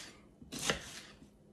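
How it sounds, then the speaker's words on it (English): Onions are chopped for a deer heart dish, a single sharp knife stroke against a board rising out of a quiet room, close and brief with no voices. "so then you chop up your onions"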